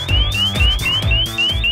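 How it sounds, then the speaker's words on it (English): A 100-decibel motion-activated alarm on an ABUS Detecto 7000 RS1 motorcycle disc lock wails loud and close in a steady repeating cycle of rising electronic sweeps, about five in quick succession, with nothing else heard. "The RS1 features a 100 decibel motion-activated alarm to keep you safe and secure."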